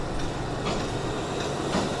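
A train at Kharkopar railway station gives a steady, dense rumble with faint rhythmic wheel clatter, heard continuously for a couple of seconds at moderate distance with no talk.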